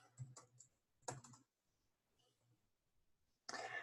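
Numbers are keyed on a computer keyboard, close and quiet, in two quick clusters of taps, then a pause and a final short burst of keystrokes.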